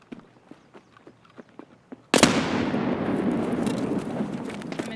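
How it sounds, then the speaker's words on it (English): In Escape From Tarkov, a grenade goes off with a sudden loud blast that rolls into a long, rumbling decay, after a stretch of quiet footsteps and faint ticking. "I threw a nade up and at him."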